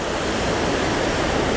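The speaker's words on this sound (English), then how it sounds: "I've never seen the river flowing this hard." A river running very hard and high after rain, a loud, dense, continuous rushing roar filling the short stretch with no voices.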